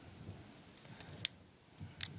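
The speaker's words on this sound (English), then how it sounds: "And it opens up to pliers, not scissors, which has a wire cutter in there," Spring-loaded pliers on a small multi-tool are opened and closed, giving a few crisp metallic clicks and snaps against a quiet background.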